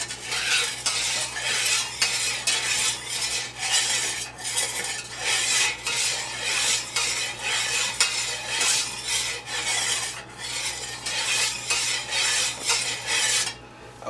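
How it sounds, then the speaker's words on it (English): A spoon stirs sugar into hot sweet tea, steady rhythmic scraping and clinking against the container, close and loud, continuing without pause and with no voices. "just stir it till the sugar dissolves completely."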